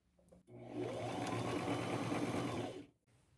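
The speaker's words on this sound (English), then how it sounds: "And continue sewing." Sewing machine stitching denim patchwork for a poncho, a steady close whir running for about two seconds after a brief start, then stopping.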